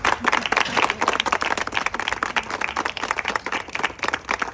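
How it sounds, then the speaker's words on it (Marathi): An audience applauding at an award felicitation, a dense sustained patter of many hands clapping together, fairly near and continuous without talk. "मला वाटतं टाळ्या पुन्हा एकदा व्हायला पाहिजे"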